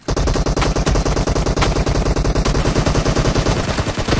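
Rapid automatic gunfire in PUBG Mobile during a deathmatch, loud, dense bursts of shots firing almost continuously at close range with no pauses and no talking.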